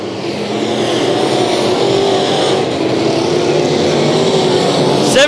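Sport modified race cars roar around the oval at Bakersfield Speedway, a loud, continuous blend of several engines droning together at close range, with no break in the noise.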